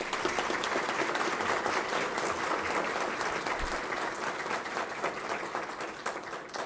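A formal public accountability hearing audience gives sustained applause for officials seated at the head table, a dense, loud, even wash of clapping that holds steady throughout.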